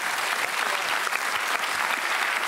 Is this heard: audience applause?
yes